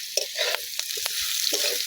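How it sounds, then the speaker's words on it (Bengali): Chopped potatoes with salt and mixed spices frying for chowmein while a spatula stirs them, a close hissing sizzle broken by several quick scraping strokes. "এখন ভালোভাবে নেড়ে চেড়ে নেব।"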